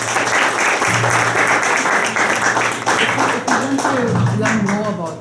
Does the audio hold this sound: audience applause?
yes